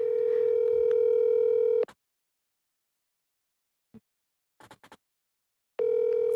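Outgoing-call telephone ringback tone: a steady buzzing burst about two seconds long, then silence with a few faint clicks, then the next burst starts, clear and close.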